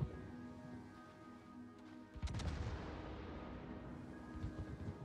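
The Haru warship fires its guns during a World of Warships tournament match: a cluster of muffled booms breaks out midway over a steady low battle rumble.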